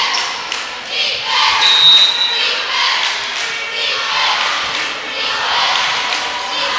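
Queens Grant girls' basketball fans in a gym keep up a rhythmic chant and clapping beat, a steady, pulsing crowd sound heard from a moderate distance.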